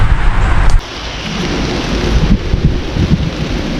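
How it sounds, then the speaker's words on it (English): Heavy rain pours down on a Mississippi River bank, a dense, loud, steady roar of water with a brief dip near the start and no voices. "Alright, so of course, right when I get here, it starts pouring."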